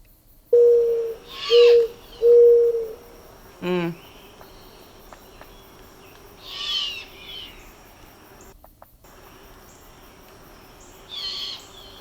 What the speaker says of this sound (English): That last little bit was classic mourning dove.